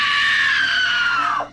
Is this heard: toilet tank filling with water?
no